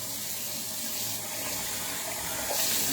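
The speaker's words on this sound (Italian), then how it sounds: "L'acqua calda sta arrivando." Hot water runs steadily from a tap into a sink, a continuous broadband rush that swells slightly near the end, with no voices.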